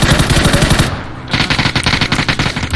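Rapid automatic gunfire from the PUBG battle-royale game on PC, loud and continuous bursts that pause briefly around the one-second mark, then resume in a dense stuttering rattle.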